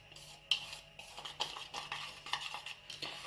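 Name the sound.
mixing flour and cornstarch together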